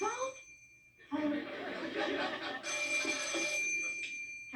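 A telephone bell ringing indoors in a sitcom scene, a sustained trilling ring sounding under chuckles and brief talk.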